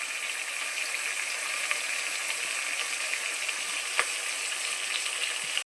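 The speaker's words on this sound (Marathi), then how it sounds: "कांदा सोनेरी रंगापर्यंत परतून घ्या" Chopped onions fry in oil in a pan for a village-style chicken curry, giving a steady, even sizzle close by with faint occasional crackles and no talk, cutting off sharply at the end.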